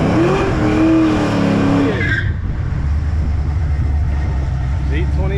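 A Chevrolet Camaro Z28 at a car show track skids and squeals its tires loudly in the first two seconds, with engine roar continuing underneath and people talking over it.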